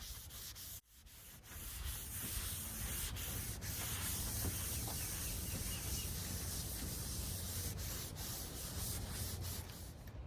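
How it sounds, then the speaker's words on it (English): Continuous scratchy rubbing and light sanding as glazing putty is smoothed on a furniture piece, close and steady after a brief pause at the start. "Once I smoothed down the glazing putty, I wiped down the entire piece"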